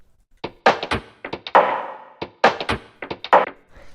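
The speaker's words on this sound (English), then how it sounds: "Like if I play that with the rim shot," Pitched-down drum samples with a rim shot play a loose, swinging pattern of deep thunky hits and sharp clicks, close and dry with uneven, shuffled timing.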